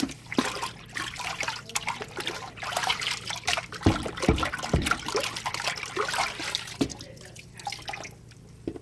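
A sand casting is rinsed in a water bin, with close splashing, dripping and trickling water plus a few knocks and clunks of the piece against the container, and no speech.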